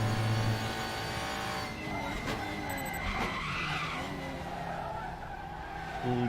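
Touring race car front tires locking and skidding in the RaceRoom video game at Hockenheimring: a drawn-out squealing screech over the engine's whine, rising and wavering for several seconds, close and prominent.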